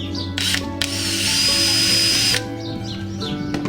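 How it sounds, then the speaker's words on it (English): A power drill bores a hole into a kayak hull while an anchor trolley is fitted, a close high whine held for about two seconds between brief start-up bursts and clicks. "And again, drill the hole."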